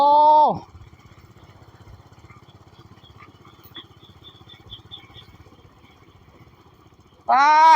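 A motorcycle being ridden away by the house owner, a low engine rumble continuing steadily at moderate distance between louder bursts of a voice at the start and end.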